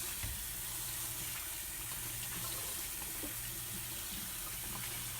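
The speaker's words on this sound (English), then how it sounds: "I'm gonna turn the water on" Tap water runs steadily into a kitchen sink over a handful of fresh strawberries being rinsed, a continuous close splashing hiss with faint low clatter underneath and no voices.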